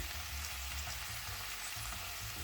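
Beans and potatoes fry steadily in a pan as tomato and salt go in, giving an even, close hiss of sizzling with no voices.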